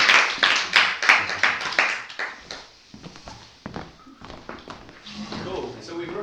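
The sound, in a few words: audience applause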